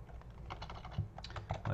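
Steady run of key clicks on a computer keyboard while an address is typed, close and moderately loud, with a few heavier strokes, no talking.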